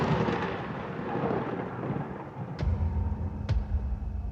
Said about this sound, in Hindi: फिर बिजली कड़कने की आवाज आती है।